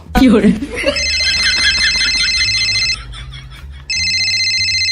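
A telephone rings with a bright electronic trill in two bursts, separated by a short pause, after a brief voice at the start.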